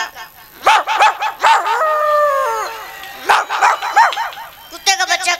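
A voice imitates a dog, barking in quick bursts, then drawing out a long howl, then barking again, loud and close.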